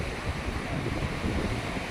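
Sea waves wash onto a sandy beach on Havelock Island, a steady broad rush of surf with wind mixed in, no voices.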